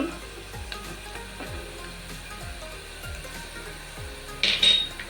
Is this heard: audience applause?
no